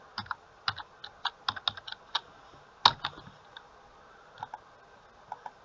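Fingers type on a computer keyboard, a quiet, uneven patter of crisp key clicks with brief pauses and one sharper tap, close by in a still room.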